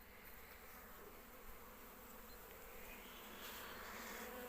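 Many bees hum in a steady, dense drone close by at an opened hive, a continuous buzzing with no voices.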